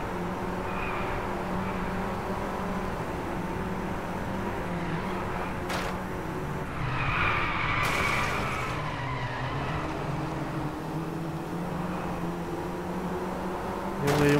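Race car engine roaring at full throttle in the Driveclub racing game, a steady loud drone held throughout with a brief tire skid squeal midway and no talking over it.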